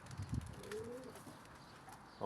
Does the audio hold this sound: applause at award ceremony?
no